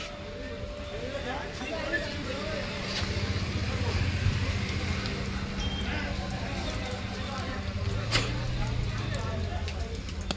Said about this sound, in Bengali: এটা হলো লিল্যান্ড কোম্পানির ট্রেলার।